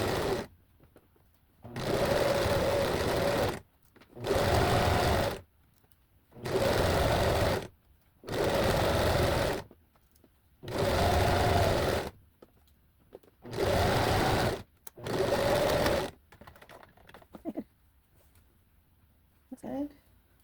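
A home sewing machine stitches the long side seams of a sweatshirt bodice in seven or eight fast, whirring bursts of about two seconds each, separated by short quiet pauses, close and clear.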